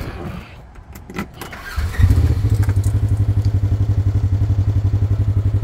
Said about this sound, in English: I'll be starting it up from a cold start.